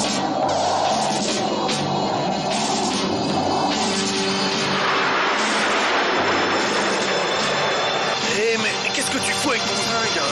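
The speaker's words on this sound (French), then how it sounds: "2 avions de chasse arrivent sur nous." Two fighter jets approaching in a military action film, a loud continuous roar of jet engines swelling and shifting, with voices and other film sounds mixed in.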